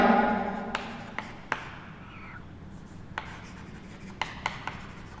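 A marker or chalk scrapes across a classroom board as a line is drawn, with a few short strokes and taps following. A voice murmurs faintly at the start.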